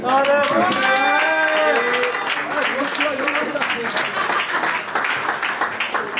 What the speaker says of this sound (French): on peut l'applaudir s'il vous plaît, S2D.